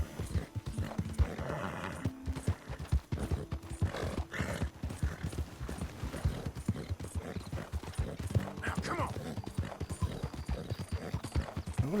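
A horse in Red Dead Redemption 2 clip-clops along with a steady rhythm of hoofbeats, and a whinny rises partway through, moderately loud and close with no talking over it.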